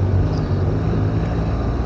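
A motorcycle engine drones steadily while riding on Madeira roads, a constant low hum blended with heavy wind rush across the microphone.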